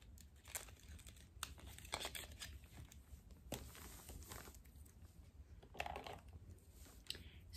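Cardboard packaging for an eyeshadow stick being torn open by hand, a run of close, scattered crinkling rips and tearing bursts with no talking.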